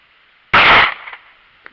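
A Ruger LCP II pistol fires a single sharp, loud shot that is over quickly and leaves a short tail and a faint click.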